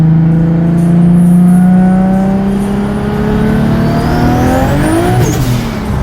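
A loud, tuned Corvette Z06 engine revs up steadily with rising pitch on a dusty road, close and continuous, then the tone sweeps upward near the end as it accelerates hard in second gear.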